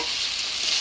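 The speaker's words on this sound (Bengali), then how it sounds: "হালকা ভাজা নাড়াচাড়া করে নেব," Fried rita fish is stirred lightly in a pan with potatoes and spices, a brief continuous sizzle close by.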